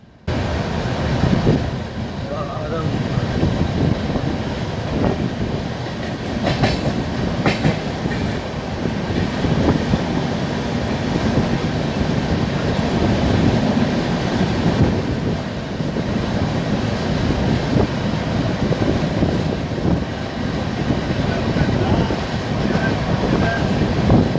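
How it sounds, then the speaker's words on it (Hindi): A passenger train runs at speed from Cuttack to Bhubaneswar, heard from inside as a continuous loud rumble with rattling wheel clatter and rushing air, steady for the whole stretch, no talking. "ट्रेन तेज रफ्तार से चल रही थी।"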